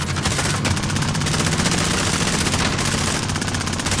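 Rapid bursts of automatic gunfire from a vehicle-combat video game rattle continuously, loud and dense throughout, with a low mechanical rumble like a helicopter underneath.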